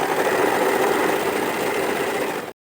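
Usha Janome sewing machine running a line of stitches, a fast, even mechanical whir with rapid needle chatter, close and steady for about two and a half seconds before stopping abruptly.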